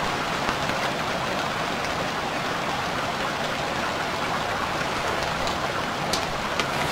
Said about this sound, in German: Na toll, und es regnet immer noch.